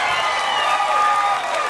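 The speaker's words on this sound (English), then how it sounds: "Round of applause." Steady, dense applause from a comedy show audience fills the room, loud and continuous throughout with no pauses.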